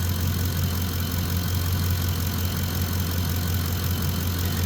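Ford F-150 engine idling with an alternator under test, a steady low rumble that stays even and continuous throughout, close by with no talk.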